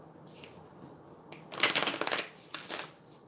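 Affirmation and oracle cards are shuffled by hand in short riffling bursts, with a brief soft rustle followed by two louder flurries of card flicks at close range, no voices.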